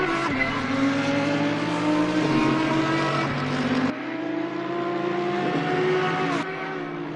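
Several race cars lapping Brands Hatch circuit in a sim racing game, engines droning and revving with steady pitch shifts, cutting off abruptly as views change, close and loud without any talk.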